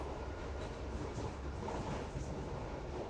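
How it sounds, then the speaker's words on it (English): A video-game train rolling along toward a border crossing, with a continuous low rumble and rhythmic rail clatter at moderate distance, steady throughout with no voices. "Anna says we need to stop the train before it reaches the Serbian border"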